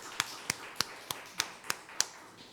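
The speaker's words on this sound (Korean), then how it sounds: "다시 한번 박수로 응원하겠습니다" Rhythmic clapping at a Korean Sunday worship service after a young musician's performance: seven crisp, evenly spaced claps about a third of a second apart, moderately loud over a quiet hall.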